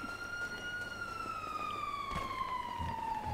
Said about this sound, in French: J'ai allumé mes sirènes